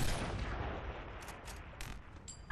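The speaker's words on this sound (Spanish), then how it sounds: "Y vamos a hacer un disparo a la pared" A gunshot fired at a wall in Gears of War Ultimate Edition lands as a loud, booming blast that fades away over a couple of seconds, followed by a few faint, sharp ticks.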